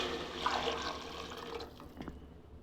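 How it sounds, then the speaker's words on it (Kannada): Water poured from a glass into a cooking pot for rice, a soft splashing trickle in the first half that tapers off, followed by a few faint clinks and drips. "ಅದಕ್ಕೆ ಮೂರು ಗ್ಲಾಸ್ ನೀರು ಹಾಕ್ತಾಯಿದ್ದೀನಿ"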